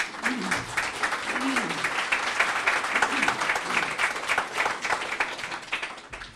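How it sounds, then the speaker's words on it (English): Steady round of applause from a conference crowd at a tree summit, many hands clapping continuously and fairly close, with a faint voice briefly over the start before it tapers off at the end. "round of applause"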